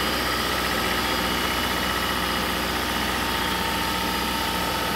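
Car engine idling after a cold start at -40°C in extreme cold, a steady continuous rumble with a faint high hiss, held evenly throughout with no talking.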